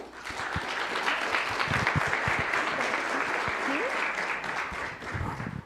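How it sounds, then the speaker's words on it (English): Audience applause for a Youth Council being called up at a Martin Luther King Jr. Day of Service event, a steady dense crowd clapping that fills the whole stretch, with a brief voice briefly rising over it. "Let's give them a round of applause"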